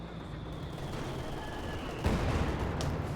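Artillery barrage in the strategy game Company of Heroes 2, heard as a low rumbling mix of distant gunfire and blasts, with a louder impact burst about two seconds in, under faint background noise.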